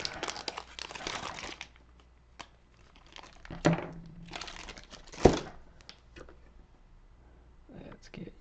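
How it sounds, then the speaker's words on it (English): Plastic packaging crinkled and torn open while sculpting a model, bursts of close, loud crackling interrupted by a few sharp clicks and quieter pauses, with soft whispered talk mixed in. "Sorry for all the crinkly noises."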